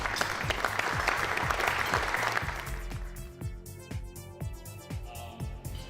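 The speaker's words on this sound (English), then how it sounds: "so give you a big round of applause" An audience at a car dealership's tenth anniversary celebration gives a round of applause. Full crowd clapping fades away under a steady, pulsing background music beat.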